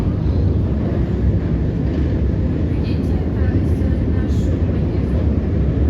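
Inside a moving passenger train, a loud steady low rumble of the carriage fills the whole stretch, with faint higher squeaks and rattles above it.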